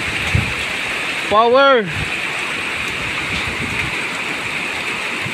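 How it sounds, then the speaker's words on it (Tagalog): Heavy rain, strong wind and a swollen, flooding river make a loud, constant wash of noise, briefly interrupted by a short spoken word. "At malakas po ang ulan, malakas po ang hangin, malaki po ang tubig sa ilog."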